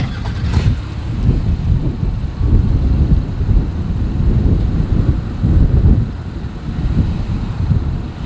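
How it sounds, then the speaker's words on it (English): A 2021 Honda Passport's engine rumbles through its dual exhaust with a deep, steady tone, swelling slightly as it is revved a few times. "Here is that exhaust clip."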